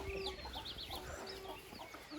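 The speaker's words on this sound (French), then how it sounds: "voilà les petites poules pondeuses qu'on m'a données" Several laying hens cluck softly close by in short, scattered calls over a faint background hum.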